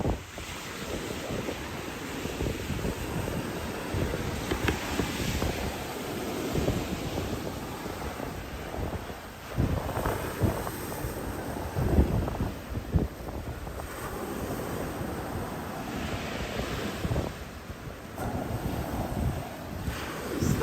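Strong gusts sweep a Hollywood, Florida beach, buffeting the microphone with heavy rumbling wind noise over a continuous wash of surf, swelling and easing in waves for the whole stretch with no talking.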